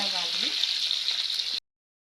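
Half a kilo of sliced onions fries for chicken dum biryani in a steady, close, bright sizzle that cuts off abruptly.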